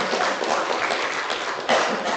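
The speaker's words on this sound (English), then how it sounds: "A warm round of applause," A moderate round of audience applause at an international media launch, steady clapping from many hands at a slight distance, swelling briefly near the end.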